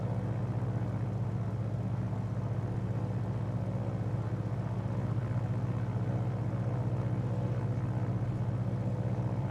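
A Grumman Wildcat propeller aircraft engine in a flight simulator game, a steady, continuous droning hum that holds an even level throughout with no talking over it.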